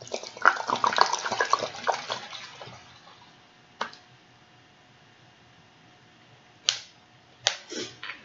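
Liquid poured out of sealed bottles in a classroom science experiment: a close splashing, gurgling pour for the first few seconds that fades to near quiet, then a few short sharp splashes and knocks.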